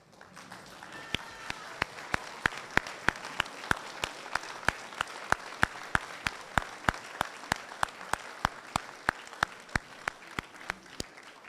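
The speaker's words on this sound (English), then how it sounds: "give your parents a round of applause" Students at a middle school assembly applaud their parents: sustained, fairly even clapping from a large crowd, with several loud individual claps standing out close by throughout, steady rather than building, and no talk over it.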